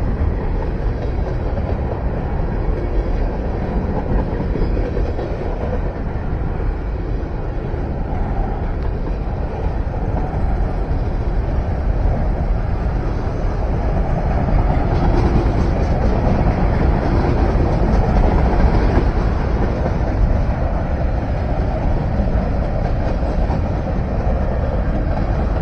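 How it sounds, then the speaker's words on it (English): A long, steady low rumble of a passing Norfolk Southern freight train on the Lehigh Line, Phillipsburg, New Jersey, continuous and fairly loud for the whole stretch, with broadband rolling noise and no voices. "Just gonna catch this one train."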